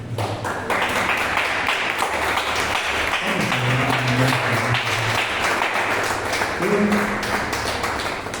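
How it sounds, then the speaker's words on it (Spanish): Steady applause from a church congregation at a Sunday service, dense and continuous, with voices calling out underneath. "Vamos a dar un fuerte aplauso."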